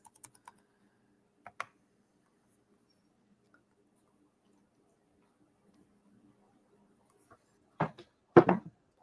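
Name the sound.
typing on a computer keyboard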